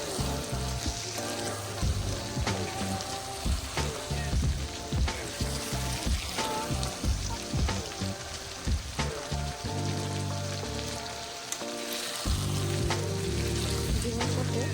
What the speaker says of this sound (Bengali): ডিমের সাথে মিনিমাম 5 মিনিট মতো মশলা কষিয়ে নেওয়ার পরে